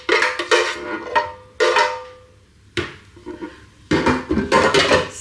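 Silicone utensil scraping and knocking stuck potatoes inside a Ninja Speedi cooking pot, several short bursts of clattering scrapes with brief pauses between them, close and fairly loud.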